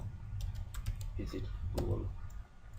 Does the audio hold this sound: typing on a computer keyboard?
yes